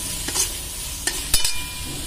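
Fried eggplant (brinjal) is stirred in a hot pan for a dry Marathi vegetable dish. A steady close sizzle runs throughout, broken by a few quick spatula scrapes and clinks, with no talking.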